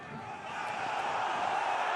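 A rugby crowd at a Pro D2 match between Béziers and Vannes calls out in a rising roar that swells over two seconds, distant and massed, with a commentator's voice faintly beneath.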